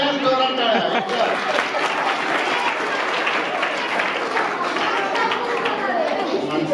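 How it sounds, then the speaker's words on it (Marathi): A crowd of students and guests at a high school youth day event claps loudly, a dense, sustained clatter of many hands with some chatter and voices mixed in. "यावेळी पण जोरदार टाळ्या"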